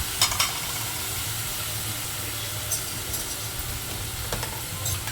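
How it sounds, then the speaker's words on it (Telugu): Moringa drumstick pods fry in a little oil for pappu sambar, producing a steady close sizzling hiss with a few brief louder spatters. "మునక్కాడలు వేసుకుందామండి. కొంచెము నూనెలో ఫ్రై కావాలి."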